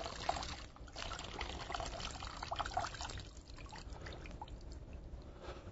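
Water draining from a Sure to Grow hydroponic insert as it is wrung out, a continuous close trickling and pouring splash with small drips, steady throughout with no talk.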